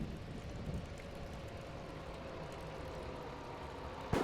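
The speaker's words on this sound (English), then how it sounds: "It's raining" Steady rain falls in Landlording Simulator, a constant soft hiss with low rumble throughout, ending in a brief sharp knock.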